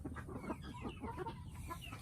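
Silkie chickens on a small egg-laying farm clucking softly, a few close, low, murmuring clucks over a steady background hum.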